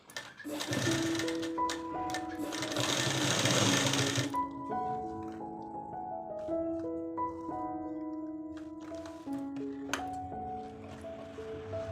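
A sewing machine runs in a steady, fast whirring burst for about four seconds while stitching a churidar pant, then stops as background music carries on.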